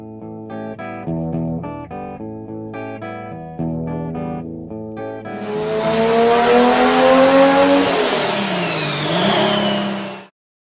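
A Ford 302 small-block V8 with a flat-tappet camshaft being broken in cranks over several times, then fires and settles into a loud, steady rumble near the car before cutting off.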